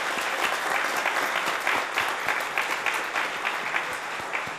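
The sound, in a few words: audience applause for debate speakers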